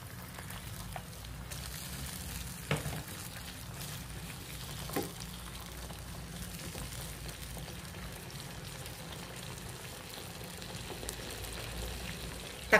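Chicken pieces go into a thickened, simmering sauce in a pan, giving a soft, steady sizzle and bubbling with a few faint clinks, quiet and without talk.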